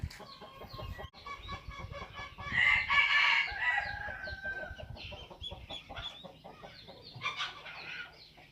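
A rooster crows loudly nearby amid other clucking chickens, with scattered farmyard noises before and after.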